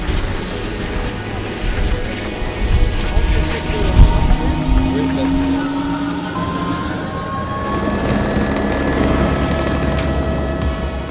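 A helicopter's steady mechanical rumble and whirring rotor drone fill the scene over Iceland, loud and continuous throughout.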